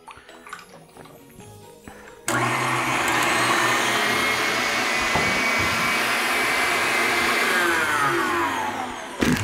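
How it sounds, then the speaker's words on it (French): An electric mixer whips cream for a cranberry Christmas dessert, switching on abruptly after a couple of seconds of kitchen clatter, then holding a loud, steady motor whir that stays close and constant until it cuts off at the end. "On commence par fouetter la crème fouettée"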